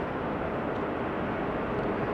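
A DHL Airbus A300-600 cargo plane arrives at Amsterdam Schiphol, its engines giving a broad, steady roar that fills the whole clip at a moderate distance, with no talking.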